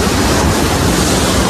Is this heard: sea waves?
yes